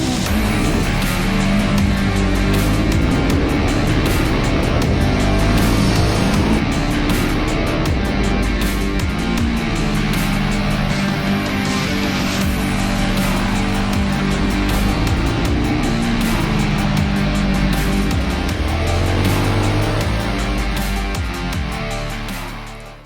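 A Royal Enfield Guerrilla 450 motorcycle on a race track, its engine roaring loud and steady under hard throttle for a sustained stretch of acceleration, with wind rush throughout and the sound easing off only at the very end.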